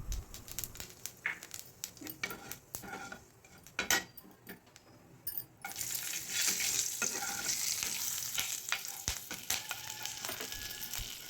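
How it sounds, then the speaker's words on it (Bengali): Black cumin seeds and green chillies tempering in hot oil for a thin katla fish curry, a steady crackling sizzle that swells louder partway through, with scattered clicks of stirring and a utensil against the pan. "ওই তেলেই কালো জিরে আর কাঁচা লঙ্কা ফোড়ন দিলাম"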